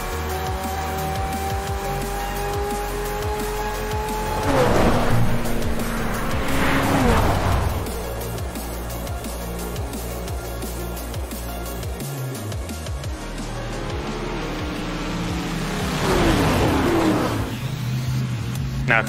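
Engine of a car in a PC racing game on an icy road, revving and shifting up through gears over steady road noise, with a few louder surges and tire-squeal bursts.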